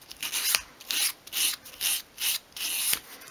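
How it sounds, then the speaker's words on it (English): Hand sanding of wooden edges with 120 grade sandpaper makes about seven rhythmic, scratchy rasping strokes, each roughly a third of a second, close and steady with brief pauses between, and no speech. "you just want to go around all of the edges and just smooth them off"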